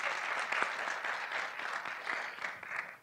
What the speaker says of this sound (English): Can we also give her a round of applause?